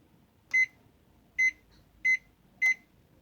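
Four short electronic beeps from a microwave oven keypad as a popcorn cooking time is entered, evenly spaced and clear over a faint room hum, with no talking.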